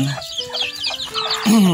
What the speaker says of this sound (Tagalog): Ating mga alagang manok. Ayan, tato nila. Alagang manok mga vloggers.